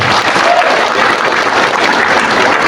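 Dense, loud audience applause at an organisation's gathering, a steady uninterrupted wall of clapping hands with no talk.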